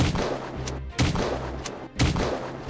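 Gunfire in the Unturned video game aimed at a metallic door, three sharp loud shots at even intervals over continuous background game noise.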